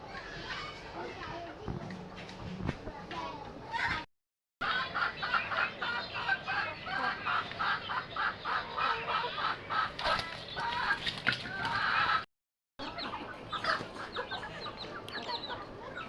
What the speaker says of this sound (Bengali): এই যে এদিকে আমি সবগুলি মুরগি ছেড়ে দিছি